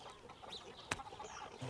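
A chicken gives a few soft clucks and squawks with a sharp knock in the middle, quiet and close, in the animated cartoon Corner Gas Animated.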